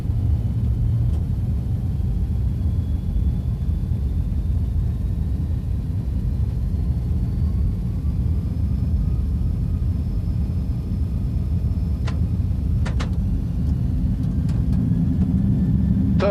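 Airbus airliner engines during a takeoff roll, a loud, steady low roar and rumble throughout with a faint rising whine, plus a few brief clicks near the end.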